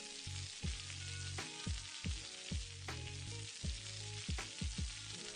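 Pork adobo fries in a pan with a constant sizzle, broken by repeated soft knocks and scrapes as it is stirred at an uneven rhythm, close and without talk.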